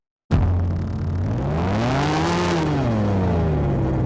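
A synthesized car engine hum starts abruptly and rises then falls in pitch like revving, with a buzzy, vocoded electronic tone, loud and continuous.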